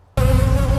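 Bees buzz in a dense, loud, close drone that starts abruptly after a brief hush and holds steady with a constant insect hum.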